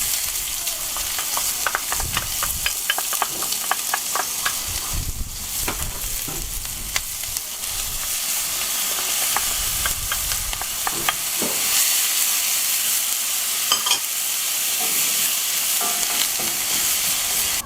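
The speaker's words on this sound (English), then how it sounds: "We're going to quickly fry up our vegetables, so some oil into the pan." Vegetables fry quickly in hot oil in a pan for a warm corn dip, a loud, continuous sizzle with scattered crackles and occasional stirring scrapes, close up and without speech.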